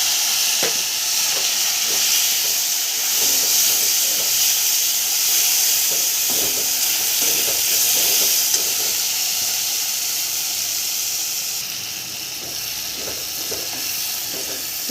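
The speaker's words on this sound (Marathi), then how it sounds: "लसूण आणि जिरं थोडं जाडसर कुटलेलं आहे, लाल मिरची चवीनुसार, आणि धुतलेली भाजी टाकून द्यायची।" Washed greens sizzle and fry in a pan with coarsely crushed garlic, cumin and red chilli, a steady loud hiss with scattered crackles and stirring taps throughout, no voices.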